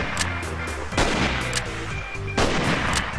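Several loud, sharp alien gun shots ring out in a Minecraft PE zombie battle, with two heavy blasts standing out above a steady barrage of rapid firing.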